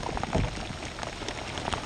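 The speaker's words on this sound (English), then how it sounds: "It's not fresh water, it's raining salt water." Steady salty rain from a tropical storm patters across a river's surface, a dense, even hiss with scattered heavier drops close by.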